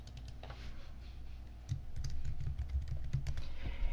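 Computer keyboard keys, arrow keys tapped while editing in GIMP, give a run of crisp, quick clicks close to the microphone over a low background hum, with no talk.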